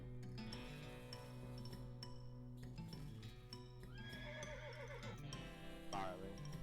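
A horse in the video game West of Loathing gives a couple of wavering neighs and whinnies near the end, over a steady tonal game background.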